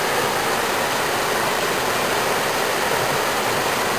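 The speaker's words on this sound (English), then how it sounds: "You can see the water flowing into the pool where I've been." Chapman Creek water pours steadily into a pool, a constant close broadband rush with no change in level and no voices.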